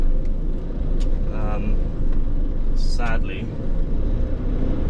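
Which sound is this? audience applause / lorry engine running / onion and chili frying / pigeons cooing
lorry engine running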